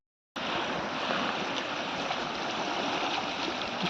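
A river swollen by monsoon rain rushes strongly past, a loud continuous roar of churning water that starts suddenly and holds steady, close by and with no talk.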